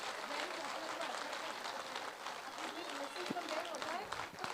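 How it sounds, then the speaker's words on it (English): An audience at a kindergarten Grandparents Day event applauds the volunteers, a steady wash of clapping that runs under a speaking voice with some background murmur. "So very, very big round of applause for all our wonderful volunteers."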